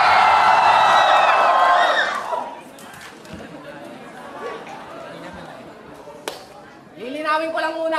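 Live crowd at a FlipTop battle rap event shouting and cheering loudly for about two seconds, then a quieter murmuring hall with scattered voices and a brief clap, before another voice speaks near the end.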